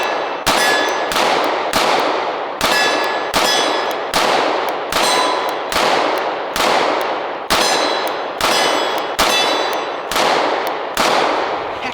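PSA Dagger Compact pistol fires a full magazine of 115 grain FMJ steel-cased ammunition at a range, a steady sequence of loud, close, ringing shots at roughly even intervals with no talking.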